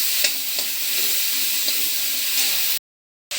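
Chayote pieces sauté in hot oil with a continuous close sizzle and occasional stirring clicks. The sound cuts to silence just before the end.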